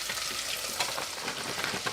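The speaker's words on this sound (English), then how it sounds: "we're not going to deep fry them for quite as long" Steady, dense crackling sizzle of chicken wings deep frying in hot oil, close and continuous with small bubbling pops throughout.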